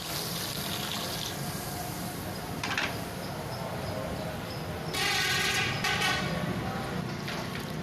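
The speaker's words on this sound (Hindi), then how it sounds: "और यहाँ पर अब पानी ऐड कर देंगे हस्बे ज़रूरत।" Water pours into a pot of browning onions for chicken kabuli pulao, a steady hissing, splashing stream at moderate loudness that swells in bursts, with a voice talking over it.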